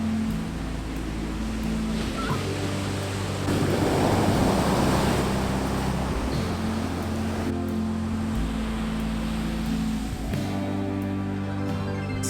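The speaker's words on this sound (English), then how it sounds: "This was Marjorie's first time at a beach, but luckily there were rocks for her to climb" Ocean waves wash steadily against a rocky beach on the California coast, a continuous loud surf roar swelling in the middle, with wind buffeting the microphone throughout and no voices.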